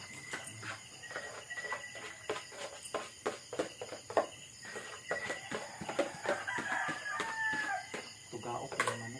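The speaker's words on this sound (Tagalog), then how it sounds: "Tugaok yung manok." Rooster crowing outdoors amid chirping crickets, faint and somewhat distant, with scattered clucks and rustling background noise.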